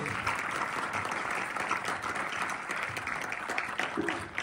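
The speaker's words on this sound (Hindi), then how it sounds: "बहुत जोरदार तालियों से इनका स्वागत कीजिए" Audience applause at a gurukul Republic Day 2025 ceremony, a steady wash of many hands clapping at moderate volume throughout, with no voices standing out.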